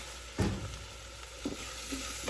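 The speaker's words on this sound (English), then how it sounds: "And then salt. Saute for another 30 seconds or so." Food sautes in a pan with salt, a low continuous sizzle broken by a few soft thumps and scrapes of stirring, fairly quiet and close.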